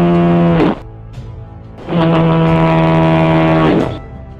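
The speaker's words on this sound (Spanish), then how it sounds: "su sirena de niebla, conocida como la vaca de Finisterre, que se oía a kilómetros de distancia." Cape Finisterre lighthouse fog siren, known locally as a cow-like horn, sounds two loud, deep, steady harmonic blasts, a short one and then a longer sustained one, each falling away at the end, with a quiet pause between them.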